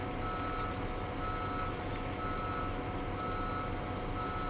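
A truck backing up on a farm near a combine harvester sounds steady reversing beeps under a constant loud engine drone, with no talk over it.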